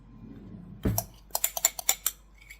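A spoon scrapes cooked sweet potato out of a container: one heavier knock, then a quick series of about seven sharp metallic scrapes and clinks, close and distinct over near silence.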